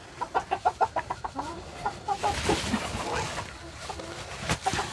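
Chickens cluck close by in a quick run of repeated notes, then the sound turns to scattered clucks over rustling, busy background noise.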